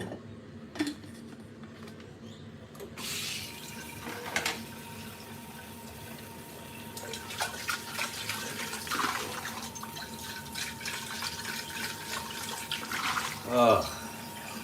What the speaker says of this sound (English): Let's get some water in there.